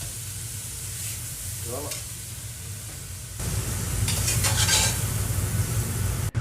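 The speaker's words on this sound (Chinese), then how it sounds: "这第一道菜小炒牛肉，再炒一辣椒。" Beef stir-fried with chili peppers in a home kitchen sizzles under a running range hood, the frying growing louder and hissier partway through with scraping stirs, and a brief spoken word near the end.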